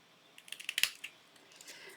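Scissors snip through glittery specialty card paper from its plain back side, a quick run of crisp, close cuts about half a second long, followed by soft handling rustle.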